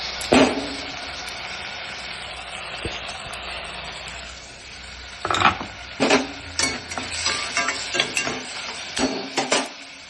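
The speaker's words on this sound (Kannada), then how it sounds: "ಇವಾಗ ಟೊಮೆಟೊ ಹಾಕೋಣ." Tomatoes tipped into a pan of cooked onions and stirred, with a soft sizzle under repeated scraping and clinks of a spoon against the pan, louder in the second half.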